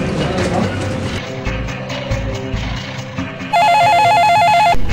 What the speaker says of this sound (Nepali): ल ल यहाँ मलाई अर्को फोन आयो है